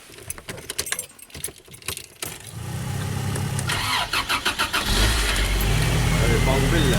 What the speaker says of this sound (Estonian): No ma panen masina käima siis.